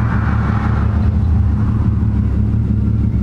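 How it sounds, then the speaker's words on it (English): An Infiniti G35 engine idles roughly and unusually low, around 800 rpm, as a steady, loud, close low-pitched rumble with a slightly uneven pulse and no talking. "It's idling super low at like 800."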